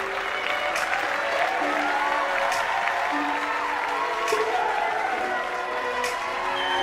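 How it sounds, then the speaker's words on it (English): Sustained applause from a large crowd at a quinceañera in a Houston banquet hall, steady and dense throughout, with a few faint whoops and voices mixed in. "Give them a round of applause."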